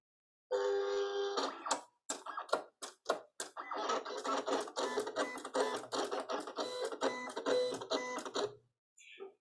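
A Silhouette cutting machine runs a test cut, giving a close whirring, buzzing motor sound broken into short bursts and clicks as the carriage moves back and forth, ending after about eight seconds.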